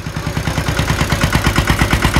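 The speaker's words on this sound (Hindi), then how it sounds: "ट्रैक्टर खाली करके आ गया वो भाई" A tractor engine runs close by on a village road, a steady rhythmic chugging clatter that holds at an even idle-like pace throughout.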